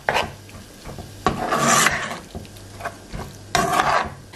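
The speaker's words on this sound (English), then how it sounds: "Give it a good stir." Tomatoes being stirred into a pot of oil-free vegan Jamaican curry, with a spoon scraping and rubbing through the thick mixture in a few broad strokes, close and fairly loud, with a light sizzle underneath.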